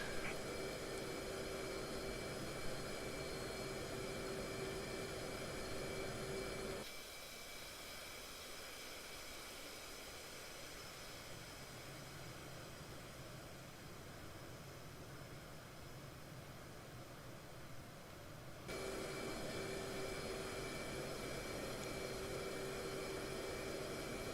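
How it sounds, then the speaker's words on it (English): Steady, continuous turbine roar and whine of an EF-18 Hornet jet taxiing in the DCS flight simulator, loud and unbroken, with a stretch in the middle where the engine tone dips and thins before returning. "Yes, I'm taxiing to parking area."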